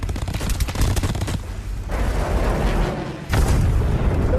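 An attack aircraft fires its guns in a movie war scene, loud rattling bursts of gunfire coming in sustained volleys separated by a short lull, heavy and close.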